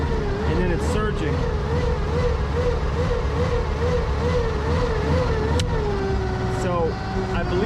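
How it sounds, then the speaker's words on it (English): The engine of a 1992 JLG 60H 4x4 boom lift idles up and surges close by, its pitch wavering up and down, and a voice may be present in the background. "when you put it on the ground controls, it wants to idle up and then it's surging"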